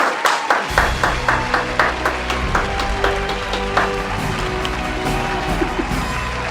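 Applause for a guest on a pre-event stage show, with distinct sharp claps standing out at first, then a fuller crowd clapping that holds steady throughout alongside a low background hum.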